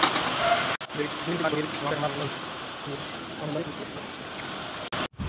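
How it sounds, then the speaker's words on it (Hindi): Heavy rain pours down outdoors in Delhi, a dense, steady hiss that fills the whole stretch at close range, broken only by two brief dropouts. "अभी भी बारिश हो रही है"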